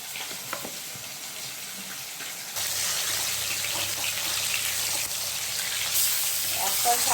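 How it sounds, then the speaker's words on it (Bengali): Rui fish fries in oil with a steady close sizzle that jumps louder partway through and keeps crackling, with faint clinks and no talking. "এইভাবে আমি সব কটা মাছকে ভেজে নেব।"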